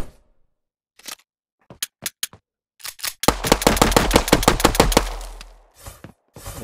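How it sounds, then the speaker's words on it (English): A VR firearm in an Unreal Engine 5.1 weapon demo gives a few scattered sharp clicks and single shots, then a rapid loud burst of repeated reports that fades out into a couple of final taps. "since there's a bullet in the chamber, I can just eject the magazine and I can self-shoot"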